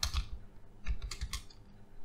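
Keystrokes on a computer keyboard while entering an email and password, a few close, quick clicks in short bursts with pauses, no talking.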